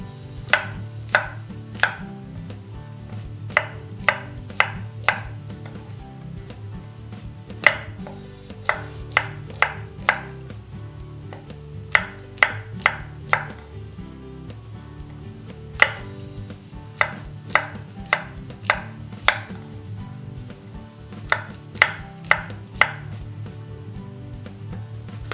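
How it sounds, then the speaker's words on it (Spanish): A knife chops mushrooms on a cutting board in sharp, crisp taps, delivered in quick bursts of several strokes with short pauses between, close and clear over a quiet kitchen background. "Troceamos los champiñones."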